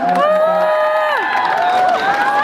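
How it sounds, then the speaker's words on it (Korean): A crowd cheering and applauding at a fan-signing event, loud and dense for a couple of seconds with excited shouts and whoops from many people close by. "여러분, 박수 한번 부탁드리겠습니다."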